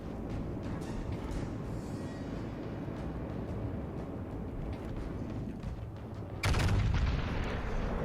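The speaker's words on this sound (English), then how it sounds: "We choose to fire the front guns in a hopeful bit in order that kills him there" HMS Conqueror fires its front guns in World of Warships Legends: a loud, sustained rumble of battle noise, then a heavy booming salvo bursts in near the end and holds.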